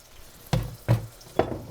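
A thin steak hits hot oil in a pan, giving three short, sharp searing bursts, each with a brief hissing sizzle tail, close and fairly loud.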